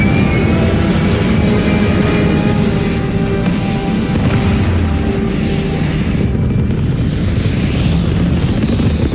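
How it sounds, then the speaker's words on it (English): Spaceship engines roar steadily on takeoff in the video game Starfield, a loud continuous jet-like rumble filling the whole stretch, with a brighter surge of thrust midway and no voices. "Engines burning. Let's do this."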